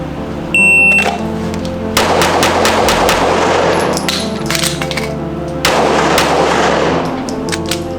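Sniper rifles fire during an outdoor training session. A few loud, close shots boom out, each with a long echoing tail, and a steady electronic tone and beeps hum underneath.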